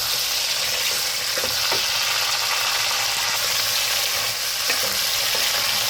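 Chicken frying in a pan with garlic-ginger paste and yogurt, a steady close sizzle with light stirring and scraping throughout.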